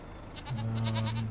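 Several goats bleat in Farming Simulator 25, a run of nasal, wavering cries rising over a low steady hum and repeating in quick succession close by.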